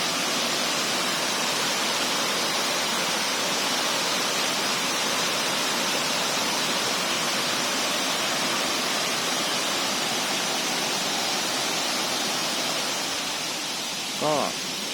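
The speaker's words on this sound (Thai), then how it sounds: "เป็นน้ำตกที่สวยมากเลย" A multi-tier waterfall at Huai Mae Khamin in Srinagarind Dam National Park, Kanchanaburi, pours with a steady, dense roar of rushing water close by, unbroken throughout, with a brief faint voice near the end.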